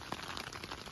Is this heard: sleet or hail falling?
yes